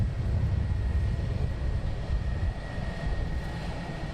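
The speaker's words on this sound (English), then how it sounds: "we do have another inbound aircraft. Looking out, I do believe it could be a BizJet coming in." A business jet arriving at London Luton Airport gives a steady, loud low engine roar with a thin constant whine above it, easing slightly toward the end with no talk.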